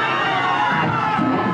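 A dense crowd at a live metal show by Horcas cheers and shouts continuously, a loud sustained roar of many voices filling the hall with whoops rising through it.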